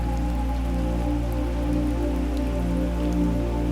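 Steady rain falling in a calm meditation setting, a dense, continuous patter of drops over a low, even hum, moderately loud and unbroken throughout with no voices.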